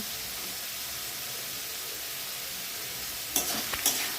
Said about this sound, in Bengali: লবণ দেওয়ার পর হালকা করে নাড়াচাড়া করে নেব।